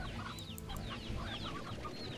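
A stony hen in the video game Slime Rancher clucks repeatedly in quick, chirpy bursts, set faintly against a busy background with no one talking.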